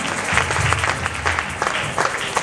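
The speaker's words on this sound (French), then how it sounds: "Tu vas acclamer le Seigneur." Applause from a church congregation cheering the Lord at a seminar closing, loud and sustained clapping from a large crowd throughout, with some voices mixed in.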